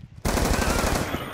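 Rapid automatic gunfire in Call of Duty: Black Ops 2 multiplayer, a loud sustained burst that starts abruptly after a brief quiet moment and continues to the end.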